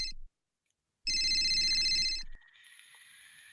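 A telephone rings in short bright electronic bursts, close and clear, with a brief gap before one long ring, then a softer steady tone.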